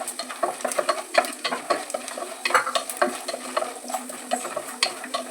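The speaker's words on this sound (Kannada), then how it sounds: "ಕಡಲೆ ಬೇಳೆ ಹಾಕಿದ್ದೀನಿ ಎಲ್ಲನೂ ಫ್ರೈ ಮಾಡ್ಕೊಬೇಡ" Chana dal frying in a pan, a dense crackling sizzle broken by repeated sharp scraping strokes of a spoon stirring, close and steady throughout with no voices.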